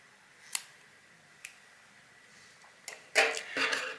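Scissors snipping crochet yarn close by: two sharp isolated clicks followed by a short burst of rustling and a cutting snip, quiet overall.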